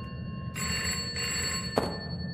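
Telephone ringing in the video game Garten of Banban, a bright electronic ring that starts partway in and repeats in short bursts, clear and fairly close above a low background hum.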